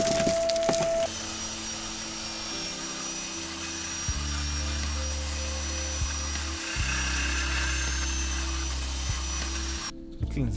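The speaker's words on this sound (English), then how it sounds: "so let's just continue grinding" Grinding on a Honda engine part being prepared for a swap, a continuous harsh abrasive roar with shifting low hum from the tool motor, steady and close with no talking.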